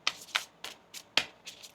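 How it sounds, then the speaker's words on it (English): A deck of tarot cards being shuffled by hand during a reading, with several crisp riffling bursts in an uneven rhythm, close and fairly quiet, with no one talking. "One more shuffle here."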